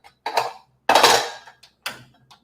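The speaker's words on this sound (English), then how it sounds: "I'm going to start to cook it on a dry pan" Eggplant pieces dropped into a dry pan, clattering and knocking in three or four short, loud bursts separated by silence.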